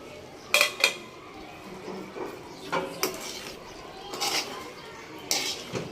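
Cubed potatoes tipped into a pot of small fish cooking on the stove, bringing a few sharp metallic clinks and knocks of a utensil against the pot in separate bursts over a low background.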